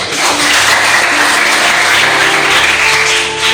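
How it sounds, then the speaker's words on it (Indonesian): A congregation claps at a church farewell gathering for a vicar, a loud dense continuous roar of applause sustained throughout with a faint low hum underneath. "Tepuk tangan dulu"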